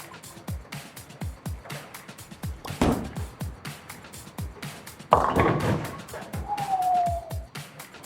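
Bowling ball rolling down an oiled lane with a steady series of thunks, then a sudden loud clattering crash as it hits the pins, followed by rattling pins and a brief high whine.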